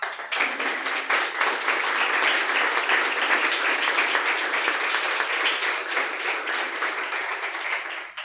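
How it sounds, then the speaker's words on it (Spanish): A church congregation claps during a sermon, the applause dense and continuous at moderate volume, heard from within the crowd for several seconds with no talking. "Vale la pena aplaudir."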